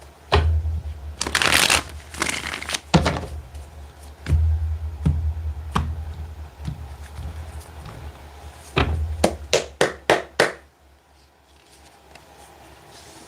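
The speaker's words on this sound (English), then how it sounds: "Let's get one more good shuffle," A deck of tarot cards being shuffled, with bursts of riffling and soft taps, ending in a quick run of sharp card snaps before quiet.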